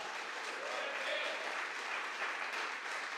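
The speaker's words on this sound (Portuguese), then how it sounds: "Pode aplaudir Jesus por isso" A church congregation applauds during a Sunday service, a faint, steady wash of many hands clapping at a distance throughout.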